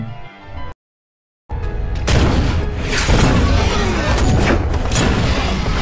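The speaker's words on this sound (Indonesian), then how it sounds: "Tentara Uni Soviet membuka pertempuran dengan tembakan anti-tank" Heavy booming Soviet anti-tank gunfire roars in a dense, continuous barrage after a brief silence, loud and rumbling like a World War II battle raging nearby.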